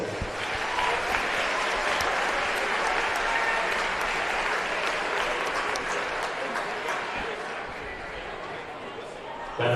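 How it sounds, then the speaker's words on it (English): Sustained crowd applause in a gym at a high school boys basketball game during senior recognition, steady and fairly distant for nearly ten seconds, with some voices mixed in. "How about one more big round of applause for all of our winner seniors"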